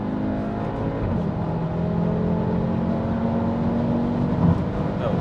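An Audi RS3 with a 400-horsepower five-cylinder engine drones loudly and steadily at high revs, a throaty, even engine note holding for several seconds.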